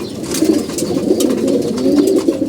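Pigeons gather to eat their feed, soft overlapping cooing rising and falling throughout with faint rustling and pecking, close and continuous, no voices.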